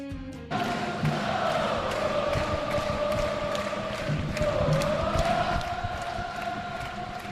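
A huge crowd roars and cheers at the Power and Light District during a U.S. Women's World Cup semifinal viewing, a dense sustained wall of voices with horn-like tones and rhythmic chanting throughout.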